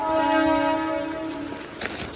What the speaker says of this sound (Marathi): आवाज आला ट्रेनचा